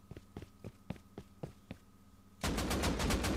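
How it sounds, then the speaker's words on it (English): AK rifle fire in Rust Console Edition: a string of spaced single shots close by, then a sudden dense rapid burst that dominates the end. "AK shooting at me."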